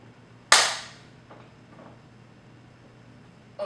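A film slate clapperboard snaps shut once, a single sharp crack that rings out briefly in a quiet room and leaves only faint background noise afterward.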